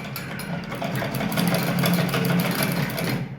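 A sewing machine runs steadily while finishing a hem seam on cloth, its needle producing a continuous rapid mechanical whir and chatter, close and fairly loud, with no talking.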